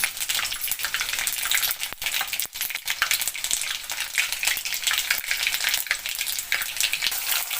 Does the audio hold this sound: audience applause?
no